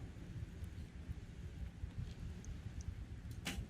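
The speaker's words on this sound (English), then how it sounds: "I can hear thunder in the background" Thunder rolls over an outdoor men's recurve archery team match in Paris, a low, steady, distant rumble lasting throughout with a few faint ticks on top.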